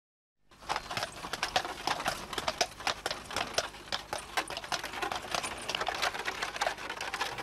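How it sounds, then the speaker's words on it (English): A Clydesdale horse pulls a cart of peats, its hooves and the cart making a steady run of sharp clicks and knocks, moderately close and continuous, with no speech. "See the Clydesdale horse with a cart taking hem the peats to the craft."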